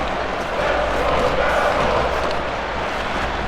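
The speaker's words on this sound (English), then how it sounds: "Listen to this crowd chant." A home crowd chanting in the ice hockey video game ESPN NHL 2K5, a dense and loud swelling roar of massed voices with a rhythmic pulse, sustained and close throughout.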